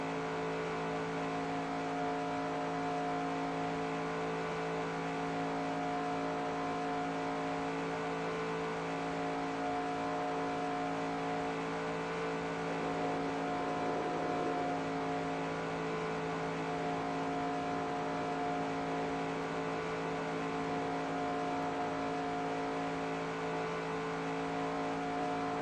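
Race car engine running steadily at speed on a track, a sustained loud harmonic drone with little variation throughout and no talk.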